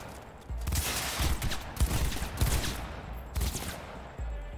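Rapid bursts of gunfire from the video game Cyberpunk 2077 come in clustered volleys, loud and close, with short pauses between them, filling the whole stretch without any talk over them.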